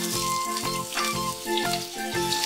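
Potatoes tossed into hot oil with dried red chillies for aloo posto sizzle loudly in a pan, with rhythmic bursts of frying and stirring scrapes repeating roughly every half second, close up and without talk.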